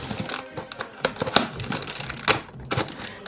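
A cardboard parcel holding an order is opened up close, with irregular crinkling, tearing and crumpling of packaging and a few sharper cracks along the way.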